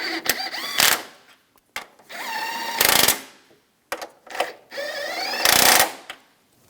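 A power tool tightens the strut nuts on a 2004–2009 Toyota Prius in three short, loud bursts of impact rattling. Whirring buildups and brief pauses separate the bursts, heard up close.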